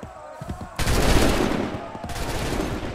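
A musket volley in the video game Assassin's Creed 3, a sudden massed crack of many shots at once followed by a rolling, fading rumble, then a second ragged burst, loud and close.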